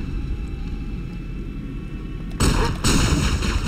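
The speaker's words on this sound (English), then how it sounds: "Because this gun shoots hella fast." Rapid automatic gunfire from a fast-firing weapon in the Halo shooter, breaking out loud and close after a stretch of rumbling game ambience and continuing in a dense burst to the end.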